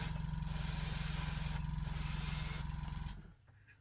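Airbrush spraying gloss varnish clear coat onto a scale model aircraft, a continuous close hiss with a pulsing compressor hum underneath, the spray pausing briefly in bursts before the sound fades out at the end.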